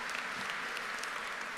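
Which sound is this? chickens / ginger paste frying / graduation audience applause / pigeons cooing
graduation audience applause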